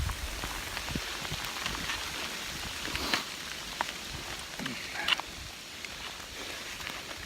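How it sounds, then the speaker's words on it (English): Hail pelts down on a hiker on a trail in the Great Smoky Mountains, a dense, steady patter of small hits all around with a few sharper nearby strikes. "So I am now getting pelted with"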